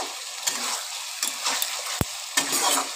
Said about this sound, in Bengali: এবার আমি আলুগুলো দিয়ে দিচ্ছি এর সঙ্গে, দিয়ে এবার ভালো করে সব কষাবো।